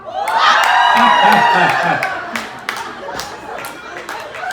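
Audience at an awards ceremony in Chicago erupts in loud cheering, shrieks and whoops at the mention of Richard Gere, swelling at once then tapering into scattered clapping and chatter.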